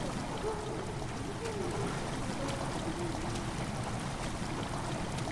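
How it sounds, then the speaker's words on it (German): Water trickles slowly into a chamber in Amnesia: The Dark Descent, a soft, steady flowing wash with faint gurgles, quiet and continuous throughout. "Wasser tritt langsam in die Kammer ein."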